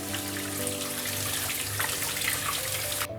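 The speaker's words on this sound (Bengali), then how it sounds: "জল ঝরিয়ে ভালো করে ধুয়ে নেব।" A running kitchen tap pours water over boiled soybeans as they are rinsed and drained, a steady close splashing flow that cuts off abruptly at the end.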